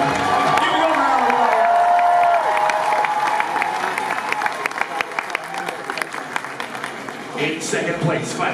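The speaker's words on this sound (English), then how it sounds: "Give it up for Alan" Convention crowd at the New York Comic Con 2016 cosplay championship bursts into loud, dense applause mixed with cheers and whoops, which thin out into scattered claps before a final swell, with a voice briefly over it.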